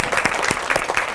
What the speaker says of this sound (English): Can we give her an applause?